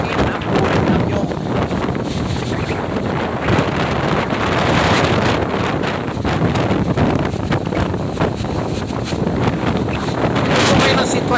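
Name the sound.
strong storm wind blowing through coconut trees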